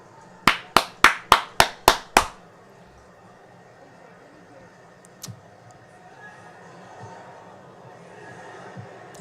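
Rhythmic, sharp claps ring out in unison, seven quick beats from a Liverpool football crowd in the stadium, followed by a quieter murmur with a few faint scattered sounds.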